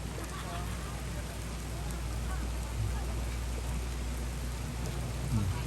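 Heavy rain pours steadily at a roadside kilometre-marker shrine in Thailand, a dense continuous hiss with faint low rumbles and a few soft knocks underneath.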